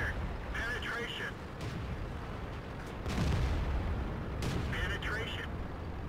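Tank guns fire during a World of Tanks battle on the Fjords map: a few heavy booms and rumbling blasts sound against steady game noise, with a voice speaking over them.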